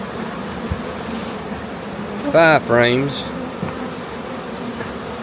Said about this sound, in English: Just look at the bees in this hive.